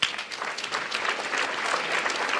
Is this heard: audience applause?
yes